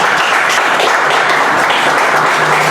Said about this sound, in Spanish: Por favor, un aplauso para Walter Lingán.